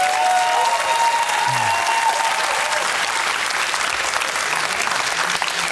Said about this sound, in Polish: Musicie klaskać jeszcze długo